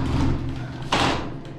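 A special bathroom door with a magnetic catch swings open, giving a short low rumble followed by a sharper scraping clack near the end, close and fairly loud.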